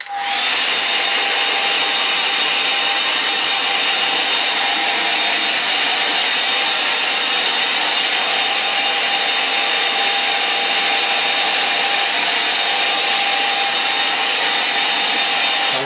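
A hair dryer blows a steady, loud whirring roar from start to finish while drying a watercolour mountain landscape painting, with no talking.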